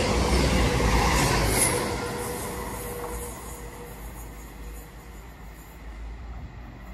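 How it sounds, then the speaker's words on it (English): Train 221136, a Banbury-bound service from Newcastle, arrives on the Chiltern Main Line near Leamington Spa with a loud, close rumble of wheels and engine that eases after a couple of seconds into a steadier, lower rolling drone. "Right, here comes 221136 to Banbury from Newcastle."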